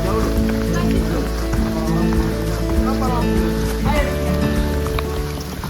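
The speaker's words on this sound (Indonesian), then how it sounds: "Dan persis ketika kami sampai, hujan pun turun." Rain drums on a tent and flysheet in a mountain forest, a loud, dense patter of drops with sharper individual hits scattered through it, continuous and close by.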